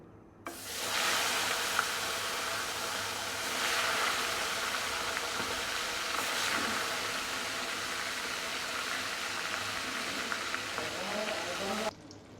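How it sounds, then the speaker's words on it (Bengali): Koi fish dropped into hot oil in a wok, bursting into a loud, dense sizzle that holds steady for about eleven seconds and then stops abruptly, with no talking over it. "মাছ দিয়ে দিচ্ছি তেলের মধ্যে।"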